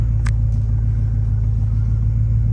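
A Chevrolet LS V8 truck engine, 4.8, 5.3 or 6.0 litre, idling with a surging, stuck-RPM fault, giving a loud, close, steady low rumble that holds even, with a couple of faint clicks near the start.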